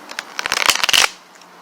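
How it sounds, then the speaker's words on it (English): Tarot cards riffle-shuffled up close in a quick flurry of crisp slapping flutters lasting under a second, then settling into quiet. "Watch my shuffle, y'all."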